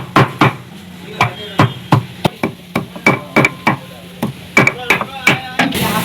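Parotta being chopped into small pieces for kothu parotta, a run of sharp, close, fairly regular knife strikes on a hard surface, about twenty hits in quick succession.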